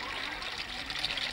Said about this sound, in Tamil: ஒரு குடம் தண்ணி விடுப்பா.